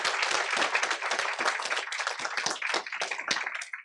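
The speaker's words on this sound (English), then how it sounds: "How about one more round of applause for our sample school winners, please?" An audience claps for sample school winners at a school board meeting, a dense, steady patter of many hands that holds for several seconds before thinning out at the end.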